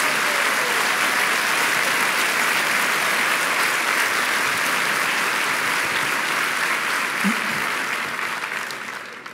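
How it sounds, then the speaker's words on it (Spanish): Loud, sustained applause from a church congregation fills the room, dense and steady for most of the stretch before tapering off at the end. "ese aplauso para él, déselo fuerte"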